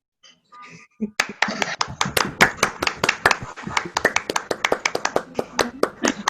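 Many hands clapping together over a Zoom call, a dense, uneven patter of sharp claps that starts abruptly after a brief quiet moment and continues steadily.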